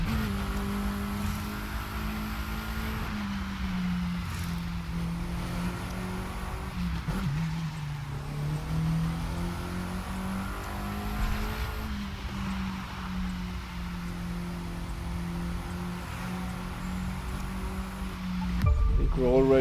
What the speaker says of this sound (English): So we'll be revving like mad.